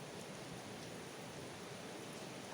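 Steady rain falls throughout, a dense, even hiss of drops on surfaces with no pauses and no voices, fairly faint and continuous.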